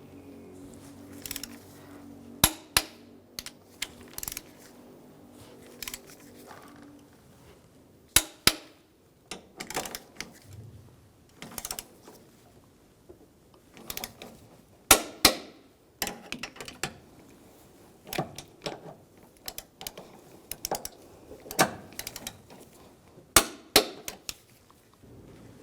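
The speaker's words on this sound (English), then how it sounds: "Now I'm going to torque these bolts to 53 foot-pounds." Metal tool clicks and sharp impacts from working on the front engine mount of a 2013-2016 Dodge Dart, with a torque wrench tightening mount bolts to 53 foot-pounds; scattered clicks and knocks recur irregularly over a quiet background.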